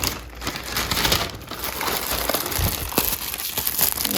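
A heavy takeaway bag of sushi rolls crinkles and rustles up close, with irregular crackling handling noises running continuously for several seconds.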